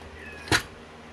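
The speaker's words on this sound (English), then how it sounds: "What you meowing for?" A house cat lets out one short, sharp meow close by in an otherwise quiet indoor room.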